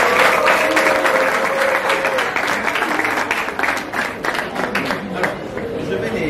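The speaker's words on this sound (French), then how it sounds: "Donc on peut les applaudir." Audience at a baccalaureate medal ceremony applauding the newly elected parents' association board, dense sustained clapping from a sizable crowd with some voices mixed in, loud and continuous.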